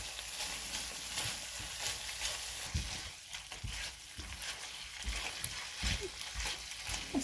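Beef strips fry in a pan and are turned with tongs, giving a continuous close sizzle broken by repeated soft clacks and scrapes of metal as the pieces are flipped.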